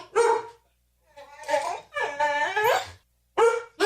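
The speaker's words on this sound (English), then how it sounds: "it's a really noisy dog" A noisy dog in a studio barks and yips in several sharp, close bursts with short pauses, loud and alone.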